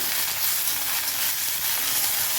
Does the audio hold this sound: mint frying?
yes